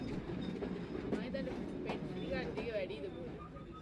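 A train runs along rails in Sri Lanka with a steady low rumble and faint rhythmic clatter, heard quietly from inside a carriage, with talking over it.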